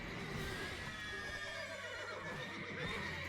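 Agitated horses neigh in a stable in The Witcher 3, a drawn-out whinny sounding over continuous low rumble and faint hoof clatter, fairly close and without speech.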